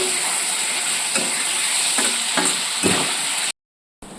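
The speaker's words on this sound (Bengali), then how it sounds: "করে নেড়ে ছেড়ে কষাতে থাকবো।" Taro greens sautéing in a hot pan with salt and turmeric, a loud continuous sizzle broken by a few scraping stirs, then a brief silence before the frying resumes.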